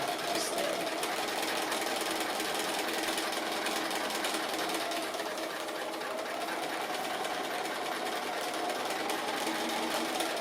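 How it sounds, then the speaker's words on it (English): Sewing machine stitching a free-motion cat appliqué, a steady fast mechanical whirr and needle chatter running continuously and close throughout. "So I'm free motion sewing."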